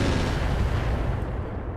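Cannon fire and SRM6 missile salvos in the mech game Roguetech, a dense, continuous rumble of booming blasts and explosions, loud and close throughout.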